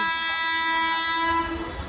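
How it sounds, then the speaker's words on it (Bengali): A loud, sustained horn from an AC local train entering Thakurnagar station blares steadily and then cuts off, leaving the rumble of the train close by. "AC express Thakurnagar up train ঢুকছে"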